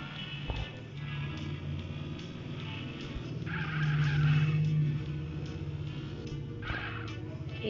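Motorbike skidding in GTA San Andreas, a long tire screech under steady engine drone, with brief clatter and a second skid near the end, no talk.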